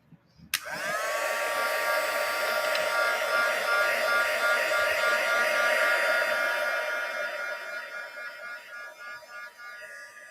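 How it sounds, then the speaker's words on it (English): A heat gun switches on with a click and blows a loud, steady broadband whoosh with a faint whine, running alone for several seconds before tapering slightly as it dries a surface. "So you can dry this with the heat gun."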